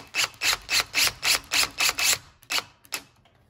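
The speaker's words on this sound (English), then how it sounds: "So you can use a power screwdriver to put this back in." A power screwdriver drives a screw into wood, whirring in about eight quick rhythmic pulses, then a few slower, spaced bursts as it finishes tightening, close and clear.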